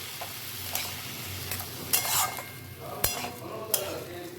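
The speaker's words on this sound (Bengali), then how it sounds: "চালটাকে এখন আমি ভেজে নেব" Soaked gobindobhog rice fries in oil in a kadai and is stirred, with a steady sizzle broken by several sharp spatula scrapes and clinks against the pan at irregular intervals.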